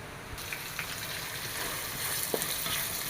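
Chopped onions dropped into hot oil in a kadai: a steady close sizzle and crackle with a few soft stirring clicks, continuous and moderately loud.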